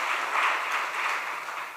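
An audience at a devotional talk-show event claps together in a brief, steady burst of applause that fades slightly toward the end, heard from within the room.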